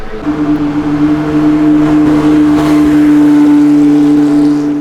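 Lexus IS F race car with a plexiglass rear window, idling and revving steadily in the pits at Fuji Speedway, a loud continuous engine drone with a strong steady tone and a slight swell midway.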